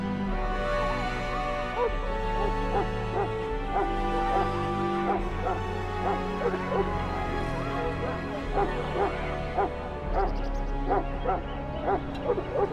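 Mabari war hound barking, yipping and whimpering in the fantasy game Dragon Age: Origins, excited bursts repeating over a sustained low musical score and castle ambience, fairly close and continuous.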